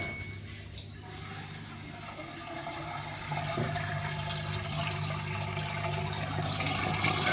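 A Samsung WA15J5730SS washing machine with a replaced drainage pump drains water, a steady low pump hum under rushing, gurgling water that grows slightly louder over several seconds.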